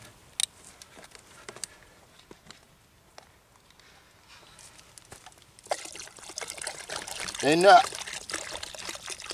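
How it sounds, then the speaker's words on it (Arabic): Water is poured onto carob pods left soaking for several days to release their juice, a trickling, sloshing pour rising in the second half, near and moderately loud, after quieter handling noises and a brief spoken word. "انا غادي نزيد الماء"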